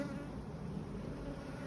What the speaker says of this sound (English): This time of year we're seeing wasp attack, and if you look on the surface here, you can see wasps.